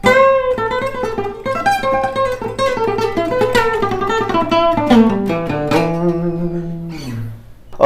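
A quick, busy acoustic guitar lick played at full speed, a rapid run of bright plucked notes ringing out clearly on its own.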